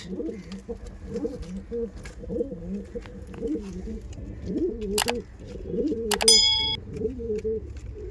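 Giribaz pigeons coo steadily in repeated low, throaty phrases, close by, with a brief metallic clang partway through.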